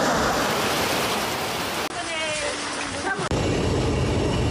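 Heavy rain pouring in a dense, steady roar that fills the clip, loud and continuous with brief cuts between takes.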